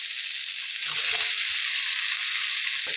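Potatoes go into frying Bengali mutton curry, kochi pathar jhol. A steady, bright frying hiss fills the whole clip, broken by a soft low thud and rustle as the pieces drop into the pan.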